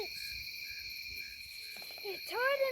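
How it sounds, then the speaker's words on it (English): Night insects and frogs chirr and trill steadily around a camp in McMinnville, Tennessee, with sustained high buzzing layered over the background and a brief rising animal call near the end. "All you can hear in the background is the coyotes and frogs and crickets"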